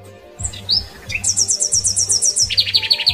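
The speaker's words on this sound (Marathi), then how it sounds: "बाई, चिमण्या चिवचिव करतायत." Sparrows chirp close by, with a few scattered calls and then fast, bright runs of repeated chirps, loud and clear over low background noise.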